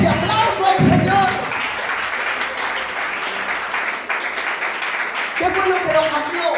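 A church congregation applauds the Lord in sustained clapping, with a voice speaking over the start and end of the ovation.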